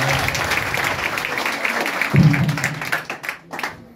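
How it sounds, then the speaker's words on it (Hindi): An audience at a coaching-centre student event applauds a teacher, with brisk scattered clapping, a brief low thump partway through and the applause thinning toward the end, alongside some voice. "एक बार दिनेश सर के लिए ताली बजाइए"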